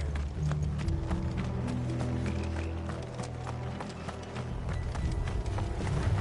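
Horses gallop in Final Fantasy XVI, a steady rapid clatter of hooves that stays close and fairly loud, running under low ambient music across the whole stretch.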